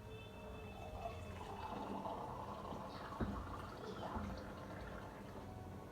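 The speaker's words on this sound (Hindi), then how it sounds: "पानी डाल देती हूँ।" Water pours steadily into a cooking pot of matar paneer sabzi on the stove, a continuous splashing fill with faint household sounds behind it.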